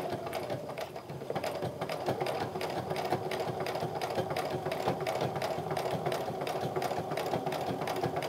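Sewing machine running steadily to stitch a fabric wallet, its needle chattering in a fast, continuous rhythm at close range for the whole stretch, with no voices.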